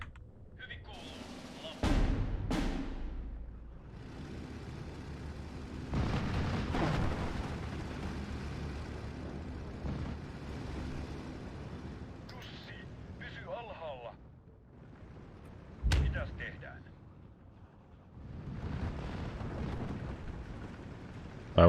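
Heavy booming blasts from bombs dropped in the World War II strategy game Steel Division 2, campaign in Karelia, several loud rumbling explosions spaced across the scene with a steady battle din between them and a voice talking over it.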